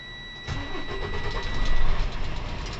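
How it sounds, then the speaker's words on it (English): A truck's diesel engine cranks and catches after the clutch is pressed to the floor inside the cab, then settles into a rough, steady idle that swells briefly before evening out, heard up close. "I'm going to press my clutch to the ground. Let's start my engine."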